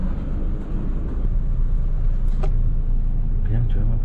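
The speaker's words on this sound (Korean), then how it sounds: "그냥 조용한 버스예요." Inside a quiet airport bus heading into Istanbul, a low steady engine rumble and road drone fills the cabin, with a few faint rattles and murmuring voices in the background.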